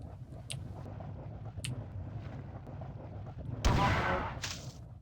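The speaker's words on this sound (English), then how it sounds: "Boom. Rocket launcher." A rocket launcher fires in the PC shooter Marathon 2: a sudden loud blast with a broad rushing burst near the end, over a steady low rumble of game ambience and scattered shots.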